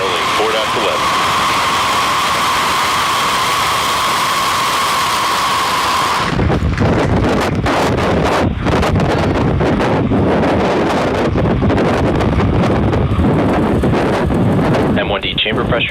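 A SpaceX Falcon 9 rocket lifts off on the Starlink 4-11 mission from SLC-4E at Vandenberg. A steady roaring rumble gives way to a loud, crackling, gusty din that goes on throughout, with wind buffeting the microphone.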